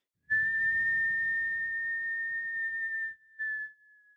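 A person whistles one steady, sustained high tone for about three seconds, breaks off, then adds a brief second burst, imitating a mysterious whistle once heard only inside a kitchen.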